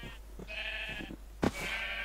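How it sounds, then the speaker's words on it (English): Sheep bleat in Minecraft, in a modded game with a shepherd's hut: several nasal baa calls in quick succession against a steady background hum, fairly clear and close. "Now let's get these sheeps where they belong."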